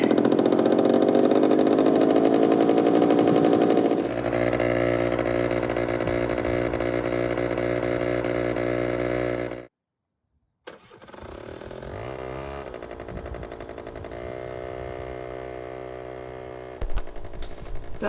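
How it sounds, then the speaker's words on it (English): A Honda Stream NV50 moped engine cranks and fires, settling into a steady buzzing idle before a short silence, then restarts and runs with a rougher, wavering tone at close range. "press the starter, which is going to be interesting with one hand"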